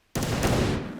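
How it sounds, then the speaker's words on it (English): A sudden loud blast bursts in, followed by a rumbling burst of booms that fades after a second, from orbital bombing in the video game Space Engineers. "Oh, some more explosions."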